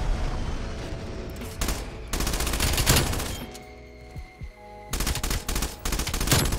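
PPSh submachine gun from Call of Duty Cold War, a loud-pipe blueprint variant, fires in rapid automatic bursts: a long burst, a pause, then another sustained burst, loud and close with no talk over it.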